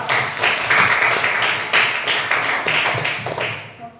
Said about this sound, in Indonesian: Beri aplaus dulu pada kawan kita.